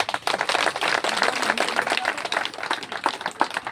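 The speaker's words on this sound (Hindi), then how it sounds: "तुमने अब एक बार भी ताली नहीं बजाई है बहुत देर से" Hands clap in a quick, steady run at a Hindu devotional gathering for Shani Dev, the claps close and fairly loud, continuing for a few seconds without talk.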